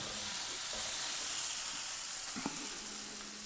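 Crab pieces dropped into hot masala in a pan for a Kerala-style crab roast, giving a steady close sizzle and hiss with a brief sharp clatter partway through, no talking.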